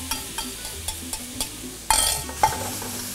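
Melon balls go into a pan of cooking brown-sugar caramel and set off a soft sizzle. A spoon scrapes and taps against the pan in a repeating rhythm, with a couple of louder clinks near the end.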